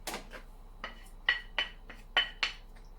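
Chopped small pieces of fried chicken are moved into an empty bowl, giving a series of light clinks and soft thuds against the dish, close and fairly quiet with short pauses between them.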